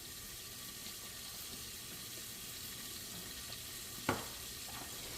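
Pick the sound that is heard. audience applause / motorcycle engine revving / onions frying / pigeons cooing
onions frying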